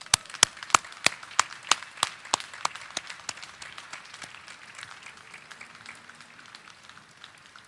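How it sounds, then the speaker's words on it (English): An audience at a Naval District Washington chief petty officer pinning ceremony claps for spouses and family members, starting with loud, sharp, separate claps that soon thin out and fade into softer, scattered clapping. "Please join me in a round of applause for the spouses, significant others, and family members of the FY22 Navy District Washington Chief Petty"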